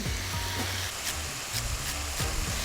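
Beef sautéing hard in extra virgin olive oil, a steady loud sizzle and crackle of frying that continues throughout, with a few faint stirring scrapes.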